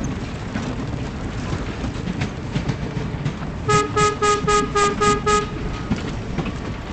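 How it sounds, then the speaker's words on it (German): A train horn in the co-op game VoidTrain gives a run of about seven short, evenly spaced toots, loud and close, over steady rumbling game ambience with no talking. "Jetzt hab ich gehupt."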